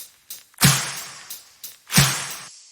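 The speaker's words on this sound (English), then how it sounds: "We have the claps, which I've stacked." Punchy layered drum-machine claps hit twice with bright, sharp attacks and short noisy tails, with lighter snaps in between.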